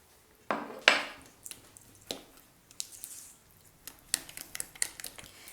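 Bread dough with oil and salt being mixed by hand in a bowl in a home kitchen, giving soft wet squishes and a few sharp clinks against the bowl, with scattered quieter taps and dabs, close and fairly faint.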